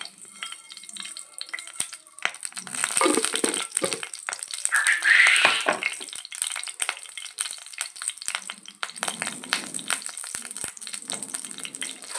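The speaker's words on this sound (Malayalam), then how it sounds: "ചൂടാവട്ടെ നന്നായിട്ട് ചൂടായിട്ടോ എനിക്ക് കടുകിട്ടുണ്ട്" Mustard seeds spluttering and popping in hot oil in a pan, a dense continuous crackle with sharp pops that swells in the middle, close and fairly loud with no talking.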